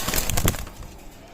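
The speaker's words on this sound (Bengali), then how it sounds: "চমৎকার ব্র্যান্ডের টেডি কবুতার" Teddy pigeons of Oman bloodline coo in a short, close burst of soft, throaty calls that quickly fade into quiet background.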